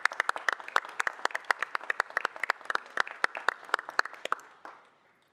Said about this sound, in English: So if we could welcome them with a round of applause,